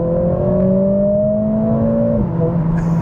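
Mercedes-AMG CLA45 S with its exhaust button engaged, a steady engine drone heard from inside the cabin that rises smoothly in pitch, then drops abruptly as if shifting gear, and settles into a lower hum.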